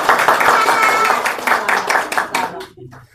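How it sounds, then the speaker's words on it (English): An audience at a press conference gives a round of applause, a dense burst of clapping that holds steady and then tapers off sharply near the end, with a voice heard over it. "can we give them a round of applause"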